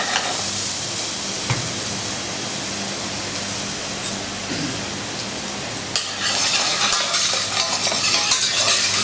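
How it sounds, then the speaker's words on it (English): Onions frying in oil in a pan, a steady close sizzle with occasional stirring scrapes, growing a little louder toward the end, with no voices. "we're starting to get a nice bit of colour on the onions now"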